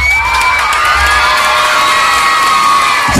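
A crowd at a town fiesta in General Trias, Cavite cheers, whoops and shouts loudly and continuously, a dense roar of many voices with applause mixed in.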